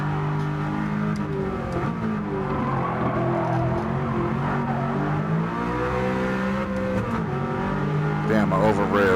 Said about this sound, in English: I over revved.